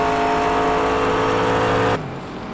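GT race cars, a Mercedes chasing a McLaren down the back straight at VIR in the iRacing sim, give a loud, steady engine roar at high revs that drops abruptly to a quieter drone near the end.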